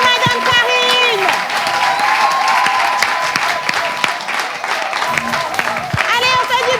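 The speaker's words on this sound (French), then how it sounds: "Nous allons les accueillir avec des ovations, des applaudissements, des ouh, de tout ce que vous voulez." A studio audience applauds and whoops loudly to welcome two guests onto a French variety show stage, with dense continuous clapping and cheers, and a host's voice speaking over the start and end.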